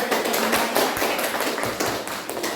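Classroom audience clapping during a teaching practice session, dense, loud and close, with uneven bursts of hand claps throughout.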